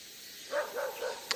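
A dog at a house down below in the countryside barks a few times in quick succession, faint and distant.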